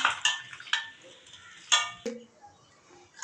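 Fish being mixed by hand in a bowl with chili paste, ginger paste, chopped onion, turmeric and salt, heard as intermittent clinks and knocks against the bowl with pauses between them; no voices.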